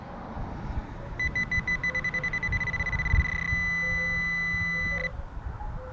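A Garrett AT Pro metal detector gives a rapid series of high electronic beeps that quickens and merges into a steady continuous tone, which then cuts off, over low outdoor rumble in a front yard.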